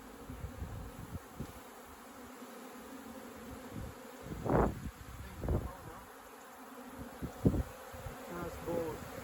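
Native honeybees buzz around an opened hive during a rescue in Manacor, Mallorca, a low continuous hum with a few louder swells as individual bees pass close.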